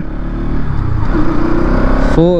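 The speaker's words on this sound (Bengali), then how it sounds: "যেহেতু একদম ব্র্যান্ড নিউ ইঞ্জিন, তার জন্য আমি বেশি হাই আরপিএমে রেভ করবো না।" A brand-new Bajaj Pulsar NS200 motorcycle accelerates through the gears at moderate revs, its engine drone loud and steady, then climbing in pitch with a rising whine near the end as it shifts up.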